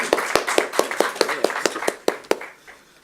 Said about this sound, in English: and the applause for Bart, of course.